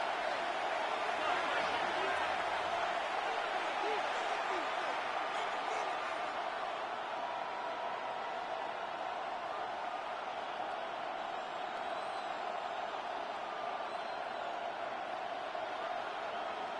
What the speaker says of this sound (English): This crowd into it now.